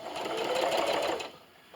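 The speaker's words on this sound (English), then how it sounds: "So I'm just going to start sewing." Sewing machine stitching rag quilt seams made from old clothes, a steady continuous whir running for over a second before stopping.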